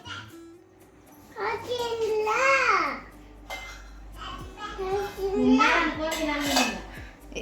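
A child plays with empty cooking pots and pans at home, light metal clinks and taps scattered beneath the child's babbling and chatter.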